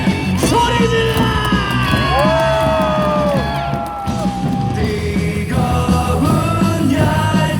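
A packed stadium crowd at a Samsung vs Hanwha Korean pro baseball game yells and cheers loudly and continuously, with rising whoops and bellowed chants swelling close by and dipping briefly midway.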